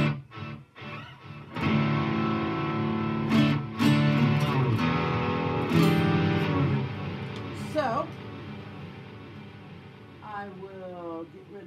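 An acoustic guitar rings through heavy distortion from a two-distortion pedal rig, sustained chords with sharp strums and a bending, wobbling tone toward the end, played alone without talking.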